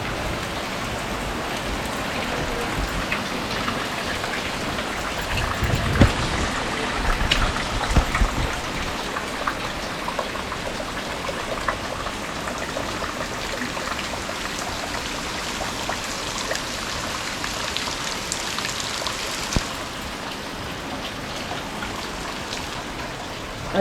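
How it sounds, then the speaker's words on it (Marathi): Steady, dense rain pours down without pause, a constant wash of drops hitting surfaces, with no voices. "अचानक पाऊस पडलो मोठो आवाज आयलो"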